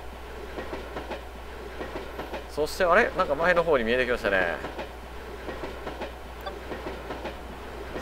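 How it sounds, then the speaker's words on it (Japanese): A train runs on rails in the A-Train 9 simulation game, a steady rolling rumble with clickety-clack that swells briefly as another train passes, while someone talks over it. "あ、ちょうど今これ、下り電車とすれ違いましたね。"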